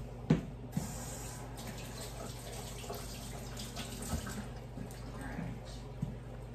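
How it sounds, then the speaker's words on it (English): Tap water runs steadily into a kitchen sink during hand washing while cooking for Thanksgiving, a continuous rushing stream with a few soft knocks and faint voice-like sounds underneath. "I'm gonna go wash my hands real quick."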